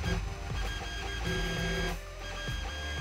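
Sunhokey Prusa i3 3D printer moving its Z axis downward and making an odd noise, a faint steady stepper motor whine with rhythmic ticking and small pitch drops, heard up close without talk.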